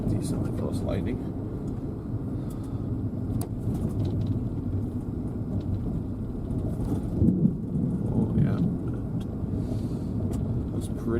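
Close thunder from lightning during a Texas supercell storm: a steady low rumble that swells briefly partway through, heard under a constant background roar.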